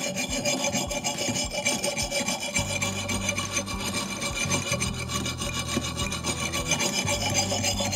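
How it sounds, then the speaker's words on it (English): An axe blade being sharpened with a sharpening device: close, repeated rasping and grinding strokes of steel rubbing in a steady rhythm, with no talking. "Look, this is the perfect device for sharpening an axe."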